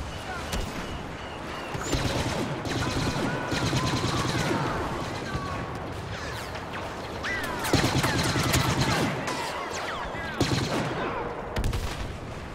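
Charged blaster shots go off in Star Wars Battlefront amid steady battlefield gunfire, with repeated sharp bursts, whining zips and small explosive pops recurring at irregular intervals, fairly loud throughout.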